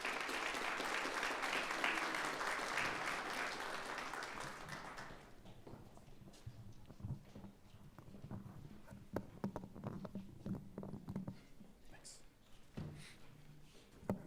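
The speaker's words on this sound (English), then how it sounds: "Let's give him a round of applause." An audience at an annual walk ceremony applauds loudly for several seconds, then the clapping fades into scattered footsteps and room noise as the crowd settles.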